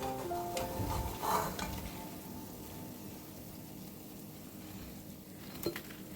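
Dahi bhalla lentil dumplings frying in hot oil on a medium flame, a steady close sizzle with some stirring clatter and a brief louder burst early on.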